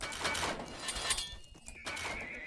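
Horses neigh in the real-time strategy game 0 A.D. during a chaotic 1v1 melee, with whinnies and busy battle noise layered throughout at a steady, fairly loud level.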